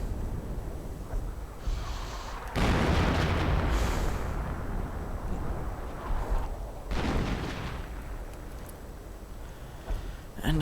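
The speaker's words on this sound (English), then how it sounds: "artillery right into the lines of the Wehrmacht" Artillery barrage in a World War II strategy game, shells slamming into German Wehrmacht lines of the 352nd: heavy booming blasts with rumbling bursts, one big burst around the middle and another later, over a steady noisy background.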